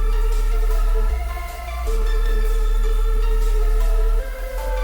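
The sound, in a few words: synth pluck with reverb and delay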